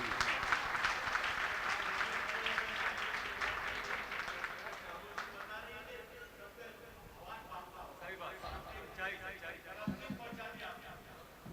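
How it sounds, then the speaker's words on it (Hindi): Audience applause at an Urdu poetry recital (mushaira), a dense wash of clapping from a seated crowd that swells loud at first and then thins toward scattered claps over the last few seconds. "एक बार तालियां बजाकर मुझे बताइए।"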